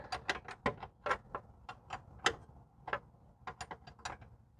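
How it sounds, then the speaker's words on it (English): A ratcheting wrench working a rear upper control arm bolt on a Ford Flex, giving bursts of quick, close clicking in short uneven strokes with brief pauses between them. "Got a ratcheting wrench"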